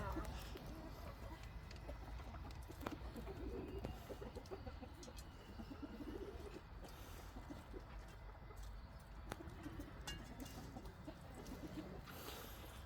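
Chickens in a coop, including bearded chickens, cluck and murmur steadily, close by, amid a busy low background hum, with a few sharper squawks scattered throughout.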